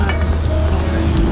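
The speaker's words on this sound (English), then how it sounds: "And put the mango in the pan." Mango pieces sizzling in a hot pan for mango flambé, a steady broadband fry hiss with faint clinks throughout, close and continuous.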